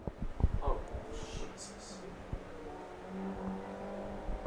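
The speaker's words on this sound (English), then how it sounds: "the Kid Karts are on the throttle and racing" Kid Karts racing at full throttle on a kart track, small engines buzzing and revving in the distance with a passing drone, under an announcer's voice over a loudspeaker.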